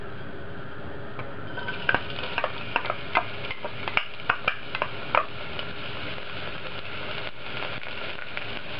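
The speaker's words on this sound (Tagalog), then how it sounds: "Kailangan lang nating i-brown yung garlic." Garlic browns in hot cooking oil in a pot, a steady soft hiss of frying with scattered sharp metallic clicks and scrapes of a utensil against the pot.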